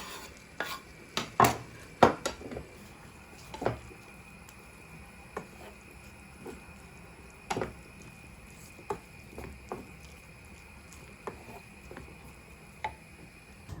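In a home kitchen, fried vegetables are added to a pot of borscht with scattered clinks of a spoon or utensil against the pot, some soft stirring and light liquid patter, fairly quiet and irregular.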